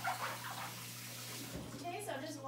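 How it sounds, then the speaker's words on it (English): Running tap water pours steadily over a pomelo being rinsed, a soft continuous splashing hiss at low level with a faint hum beneath it. "Okay, so I'm just washing it a little bit."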